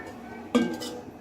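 A pot holding a rice flour mixture is set down on a stove, a single sharp metallic clank with a short ringing tail over quiet room noise.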